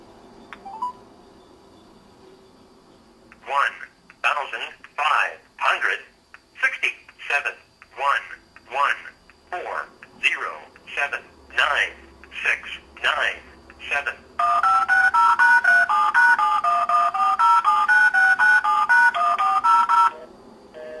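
A telephone dials a number station line, sending a sequence of about fifteen distinct DTMF tone bursts in an uneven rhythm, followed by a sustained warbling two-note tone from the line, close and loud.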